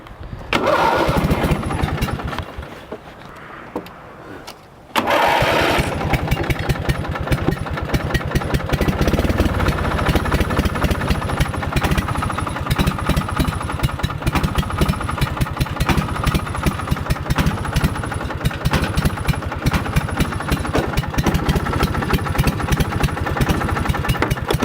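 A $75 Craigslist rally lawn mower with its choke removed runs loud and rough. After a brief dip, a steady, close, buzzing small-engine drone continues alone for the rest of the clip.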